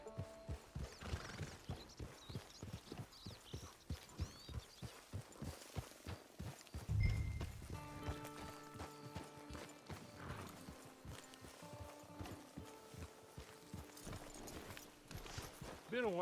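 In the Red Dead Redemption 2 video game, a horse's hooves clip-clop in a steady walking rhythm, broken by a clear whinny, all fairly quiet with voices talking over parts of it.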